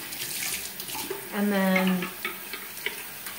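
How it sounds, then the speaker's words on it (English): Warm running water splashed onto the face to rinse off a cleanser, a brief burst of tap-like splashing and trickling in the middle, with a short spoken phrase just before. "splashing our face with warm water,"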